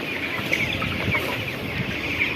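Chickens cluck softly inside a poultry shed on a hot day, steady murmuring with occasional higher calls over a constant background hum, moderately distant.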